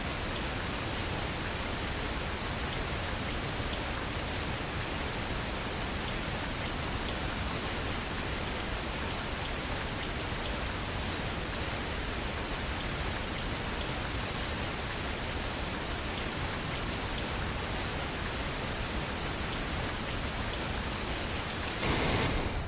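Heavy rain pours down in the Fernbus Coach Simulator driving game, heard from inside a VDL Futura double-decker coach as a loud, unbroken wash of drumming noise that holds steady throughout, with no voices.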